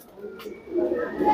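Pigeons cooing softly at close range, a few low murmuring coos swelling toward the end, with a brief flutter or rustle early on.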